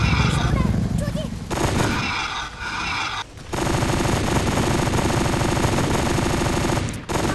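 Dual P90 submachine guns firing in the mobile shooter CFM Mobile: long, loud, rapid automatic bursts broken by a few short pauses, with a voice talking over the gunfire.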